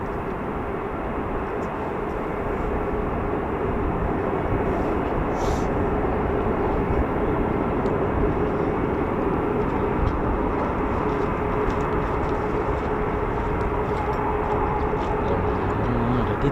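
A military fighter jet roars on takeoff at RAF Lakenheath, a loud, sustained broadband rumble that holds steady and powerful for the whole stretch with no break.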